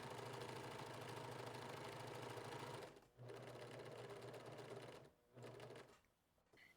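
A sewing machine stitches a buttonhole in a steady, loud mechanical whir, running continuously with two brief pauses before starting again, alone without talk.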